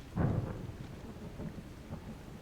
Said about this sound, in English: Hey, I heard some thunder. Yeah, I've got eyes on a storm out to the north.